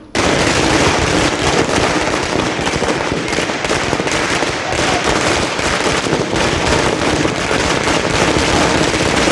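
Firecrackers bursting at a political celebration, a dense, rapid crackling barrage of loud pops that runs continuously from start to end, close by and without speech.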